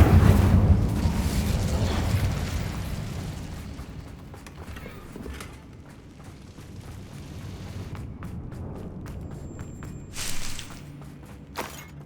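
Incendio fire spell cast in Hogwarts Legacy, a loud fiery burst that erupts at once and fades into a rumbling crackle, followed by a few sharp, small pops near the end.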